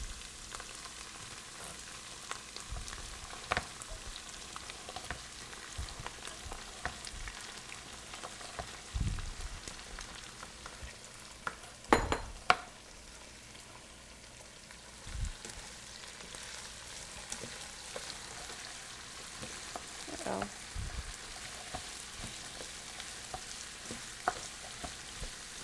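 Broccoli frying and sizzling in a pan, stirred now and then with a spoon, giving a steady crackling hiss with occasional scrapes and clatters, including a sharper knock near the middle; no talking.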